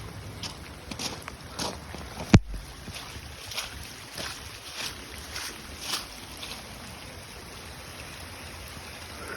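Floodwater spilling over a small waterfall on a flooded property gives a steady, fairly quiet rushing wash, broken by soft gusts and a brief sharp knock partway through.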